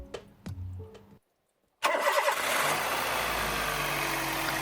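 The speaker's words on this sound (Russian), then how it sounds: "И снова сразу заводим мокрый двигатель." After a few clicks and a short pause, a car engine still wet from an engine wash cranks, catches at once and settles into a steady, even idle close by.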